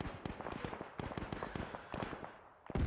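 Rapid run of sharp gunshots in a WW2 video game, fired at the wheels of a vehicle, cracking out in an uneven burst with a louder shot at the end.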